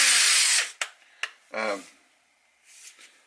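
A DeWalt 1/4 inch impact driver with a loose, sloppy trigger runs in a loud burst of about half a second, then fires two short blips, followed by a fainter whirring burst and a quiet tail.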